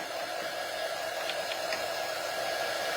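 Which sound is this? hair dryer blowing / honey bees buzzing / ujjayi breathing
hair dryer blowing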